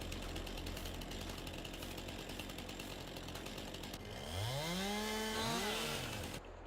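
A chainsaw cutting trees in the farming game Farming Simulator 22 gives a steady mechanical engine drone, then rising and falling whining revs near the end, with no talking.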